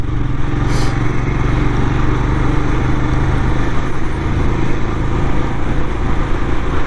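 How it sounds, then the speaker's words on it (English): A Royal Enfield Scram 411 motorcycle engine runs steadily throughout while riding, a continuous loud low thrum blended with heavy wind rush and no break in the sound. "And engine is smooth, man. It's smoother than the Himalayan."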